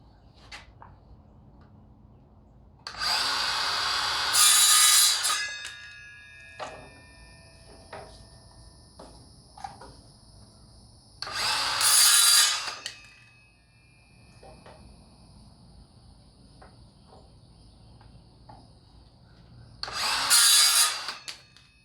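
A power tool cutting wood pieces for a rafter on a spring homestead project runs in three loud bursts of a few seconds each, separated by quiet stretches with small knocks and clatter.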